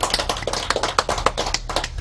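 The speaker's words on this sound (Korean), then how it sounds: "박수를 한번 쳐주십시오." An audience at a Buddhist dharma talk during a Baekjung ceremony claps in a brisk, uneven patter of many hands, the applause moderately loud and close, with no voices over it.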